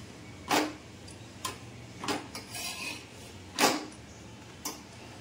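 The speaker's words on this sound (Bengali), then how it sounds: "আর এখানে বাসনগুলো, কড়াটা ক্লিন করে দেবো" Metal utensils and a kadai clatter and clink in a home kitchen as they are cleaned, with about half a dozen sharp knocks spaced a second or so apart over a faint steady background hum.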